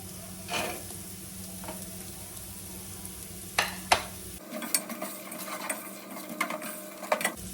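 Chopped carrots stirred into softened onions in a hot pan, a steady sizzle broken by scraping, clattering stirs that quicken in the second half, close up and with no voices.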